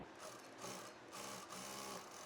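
A sewing machine stitches a velvet bridal blouse, whirring steadily and quietly with a faint rhythmic pulse and no talk.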